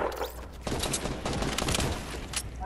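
Rapid gunfire bursts from a Fortnite battle royale match, including hunting rifle shots, crackling sharply over a steady low hum with dense overlapping shots from mid-clip onward.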